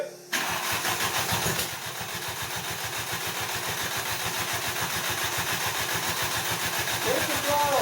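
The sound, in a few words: Audi ABA 16v turbo engine starting and idling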